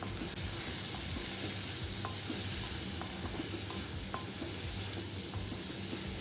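A spoon stirs a sizzling tomato mixture in a pan for Tamil egg curry, a continuous frying hiss with soft, faint scrapes and taps of the spoon, no voices.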